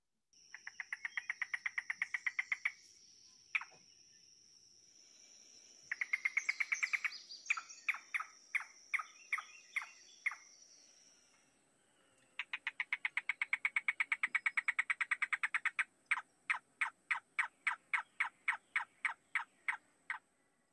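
A common woodland bird of southwest Ohio calls in long rapid trilled series broken by pauses, with spaced repeated notes and a sustained high whistle, clear and fairly near against a quiet background.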